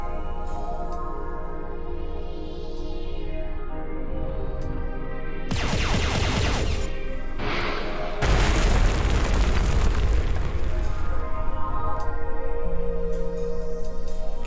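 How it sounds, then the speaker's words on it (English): Objects blown apart in the space shooter Everspace 2 erupt in two big, loud explosions over a humming ship drone, each blast crackling and rumbling before fading into debris noise. "I love how these things explode"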